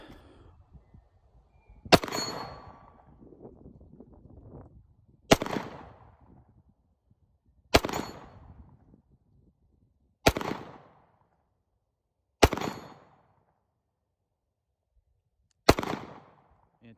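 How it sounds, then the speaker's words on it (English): Six sharp one-handed pistol shots from a SIG P365 with a Holosun 507k red-dot sight at a 40-yard range, spaced a few seconds apart, each a loud crack with a brief decaying tail and quiet pauses between. "we'll try to do some one-handed 40-yard shots here"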